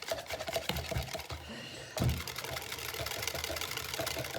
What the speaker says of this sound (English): whisk it in the jug, and sometimes I do this as well